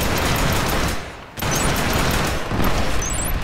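Dense, loud gunfire from the STA14 sniper rifle in the shooter Killzone: Shadow Fall, a near-continuous barrage of shots with one short lull partway through and no voices.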